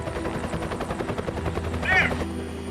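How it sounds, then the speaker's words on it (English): A rescue helicopter flies overhead, its rotor beating in a steady rapid chop, with a brief whistling tone near the end. "Helicopter's still one of my favourite sounds."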